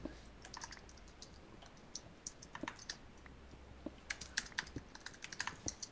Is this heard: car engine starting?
no